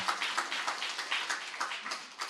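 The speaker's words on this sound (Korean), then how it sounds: "우리 하나님께 영광의 박수 돌리겠습니다." Congregation applause during a Sunday church worship service: a soft, steady wash of many hands clapping together, fairly distant and even, with no voices over it.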